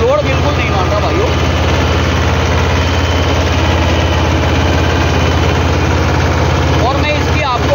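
Mahindra Jivo 225 DI tractor engine under load while sowing a field, a loud, continuous low diesel throb with steady mechanical vibration close by, unbroken for the whole stretch.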